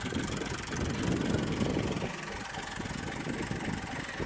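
Several tractors on a farm track run steadily with a dense, continuous engine drone and rumble, loud and close, with no speech over it.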